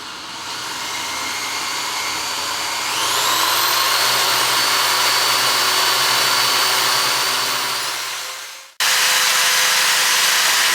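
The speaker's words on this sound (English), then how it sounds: "Drill carefully." A power drill bores into a bathroom wall during a semi-frameless shower screen installation, its loud steady whine climbing in pitch as it speeds up, running continuously for about nine seconds before cutting off abruptly.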